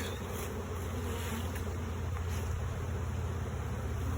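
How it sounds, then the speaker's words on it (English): A honeybee swarm buzzes in the air around a hive box during a hive inspection outdoors. A steady, soft drone of many wings runs throughout over a low rumble and wind. "A lot more bees in the air, definitely coming from this box right here."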